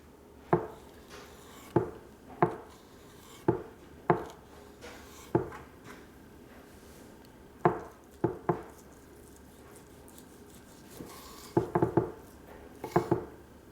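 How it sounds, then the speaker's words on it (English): A sharp knife slices deer meat into thin strips on a board, giving soft, crisp cuts at an uneven pace with brief pauses and a quick flurry near the end, close and quiet without talk. "So as you can see, I'm making little thin strips of my deer meat."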